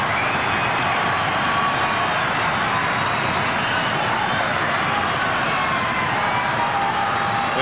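Crowd roaring and cheering a goal that levels the scores at a 1991 Australian football match between Fitzroy and West Coast, a dense, sustained wall of noise from a large stadium audience with no let-up across the whole stretch.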